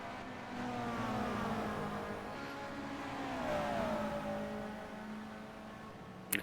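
Touring race cars, a Citroën BX and a Honda, battle at the 1990 Dijon WTCC round, their engines droning and shifting pitch at a moderate distance in a continuous roar, with a sharp click near the end.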